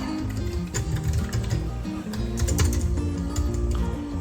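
Keys clack in quick, irregular bursts on an Asus X441N laptop keyboard fitted with a non-original replacement, close and fairly clear, with no talking.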